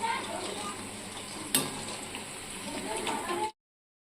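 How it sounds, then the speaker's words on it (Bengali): Pakoras deep-fry in hot oil with a continuous, moderately quiet bubbling sizzle, broken by one sharp clink midway before the sound cuts off abruptly. "এরকম করে আমি সব পকোড়ায় ভেজে নেব"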